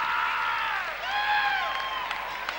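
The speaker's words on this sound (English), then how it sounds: "Crowd getting into it here at the Coliseum." Spectators at the Coliseum cheer during a Fort Wayne Komets home game against Kalamazoo, a loud continuous roar of crowd noise with sweeping whistle or horn tones rising and falling through it.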